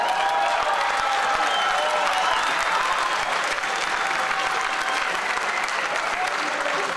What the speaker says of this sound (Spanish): El aplauso fue para TCS